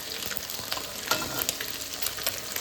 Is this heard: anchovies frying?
yes